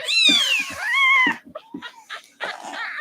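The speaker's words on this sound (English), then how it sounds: "Can't believe there's still more kittens." Young bottle-fed kittens at a rescue intake give two long, clear meows followed by short squeaky mews and chirps, close and alone with no talk.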